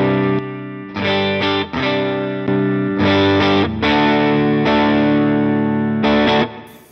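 Electric guitar played through a NUX Masamune booster and Kompressor pedal preset with its compressor switched off, loud sustained distorted chords with a chorus shimmer, struck in several bursts with short gaps, alone.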